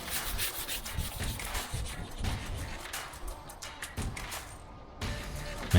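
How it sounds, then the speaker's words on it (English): Hand sanding of spray putty on a Miata body panel, a steady close rhythm of rasping back-and-forth strokes continuing for several seconds. "it's time for sanding"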